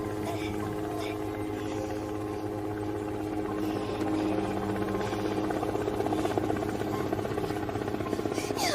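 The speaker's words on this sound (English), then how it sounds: "Chopper's here!" Helicopter rotor and engine drone, steady and fairly loud throughout, in a zombie movie scene, growing slightly stronger midway as if the aircraft draws closer, with faint voices mixed underneath.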